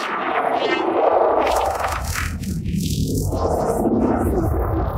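Granular sustained texture smeared by a diffusion delay and summed to mono, a dense washing drone with sweeping tonal shifts and a rumbling low end, steady and loud without any voices.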